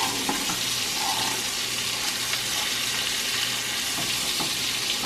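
Filet mignon steak sizzles steadily in a hot pan, a loud, continuous frying hiss with occasional crackles and the light scrape of tongs moving the meat, with no talking.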